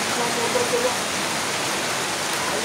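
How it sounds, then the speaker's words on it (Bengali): Sudden rain pours down outdoors, a steady, dense hiss of drops on surfaces filling the whole stretch at an even, fairly loud level with no breaks. "বৃষ্টি শুরু হয়ে গেল।"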